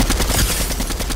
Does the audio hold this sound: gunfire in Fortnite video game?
yes